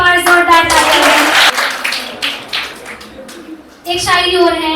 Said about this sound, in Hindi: तो प्रिंसिपल मैम के लिए एक बार जोरदार ताली है